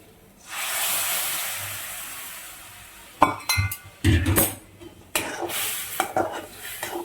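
Milk in a metal pot for a Gujarati dish, with a steady hiss at first, then a spoon stirring and clinking against the pot in quick, uneven scrapes and taps, fairly close.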